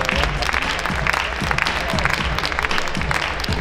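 An audience at a ballroom dance competition in Minsk applauds the couples, dense, even clapping holding at a loud level throughout.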